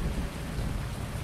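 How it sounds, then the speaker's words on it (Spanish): Heavy rain pours down with low rumbling thunder in Farming Simulator 19, a dense continuous downpour hiss over a deep rolling rumble, loud and unbroken for the whole short stretch. "Menudo diluvio está cayendo."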